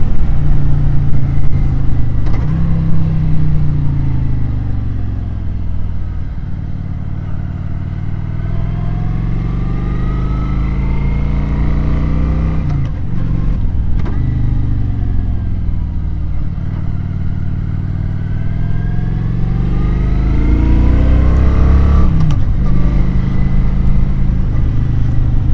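A 2015 Kawasaki Vulcan 900 Custom, a fuel-injected, belt-drive Japanese cruiser, rides along steadily with a loud, continuous engine drone and wind rush, the pitch rising and falling through gear changes and throttle shifts.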